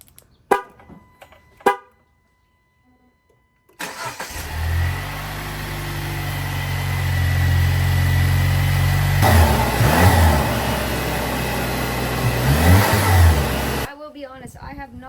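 A Jeep JL fitted with a Mishimoto cold air intake cranks and catches after a quiet pause, then holds a loud, deep idle with two sharp revs climbing and falling before shutting off; a voice is heard briefly beforehand.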